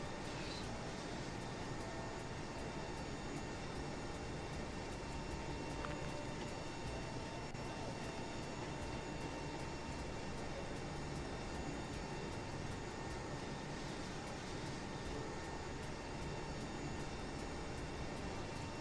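Steady, droning hum of an A32NX airliner's auxiliary power unit in a flight simulator, a constant broadband whine with faint tonal hum, unchanging and alone for the whole stretch.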